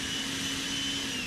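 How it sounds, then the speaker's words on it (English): A small leaf blower runs steadily while tucking pine straw, a continuous close-up roar with a constant hum and no pauses. "I love the little blower when it comes to tucking the pine straw"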